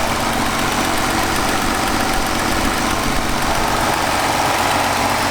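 A Nissan GTR R35 engine idles steadily up close, a dense continuous rumble with faint ticking and tapping noises beneath it.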